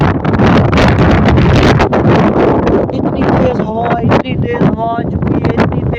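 Strong storm wind blows outdoors near the coast, a loud continuous roaring buffet against the microphone, with a person talking over it.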